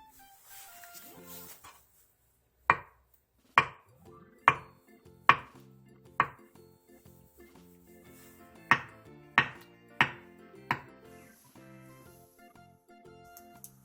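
Knife chopping through soft tofu on a cutting board into thick slices for a Korean side dish, with about ten sharp, evenly spaced cuts, close and clear, after a short silence.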